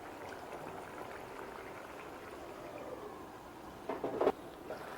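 Potato curry simmering in a covered pot on the stove, a soft steady bubbling hiss throughout, faint and even, with a few brief clinks near the end.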